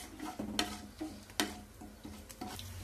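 Tempering seeds and a couple of broken dried red chillies crackle and pop in hot oil as they are stirred, giving scattered sharp ticks and sizzles over a soft frying hiss, close and fairly quiet.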